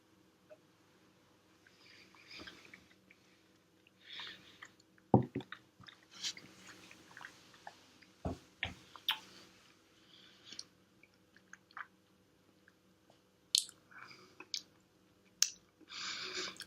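Close, quiet mouth sounds of tasting Jura Prophecy whisky at 46 percent: soft wet clicks, smacks and swishing in irregular bursts, with no talking.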